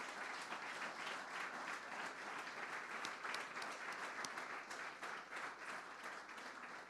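A large audience at a film festival awards ceremony claps in sustained, even applause for the jury, quite faint and distant, continuing steadily without a break.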